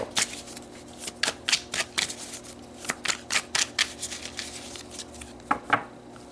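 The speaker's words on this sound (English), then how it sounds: "Let's pull some tarot." A deck of tarot cards is shuffled by hand in a series of quick, crisp riffles and flutters, close and fairly soft, with brief pauses between bursts.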